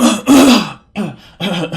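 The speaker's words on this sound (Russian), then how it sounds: "Извиняюсь, ребят, за кашель, пожалуйста." A man clears his throat and coughs nearby in a few loud, harsh, grunting bursts separated by brief pauses.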